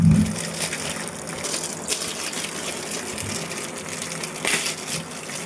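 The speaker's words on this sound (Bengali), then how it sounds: "ফ্রেশ করে পেয়ারা ধুয়ে নিতে হবে সব" Fresh guavas are washed in water, with continuous splashing and swishing at close range plus a few louder sloshes.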